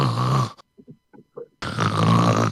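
A man imitates snoring with his voice: a few short, close snorting breaths in a quiet gap, with loud talk right before and after.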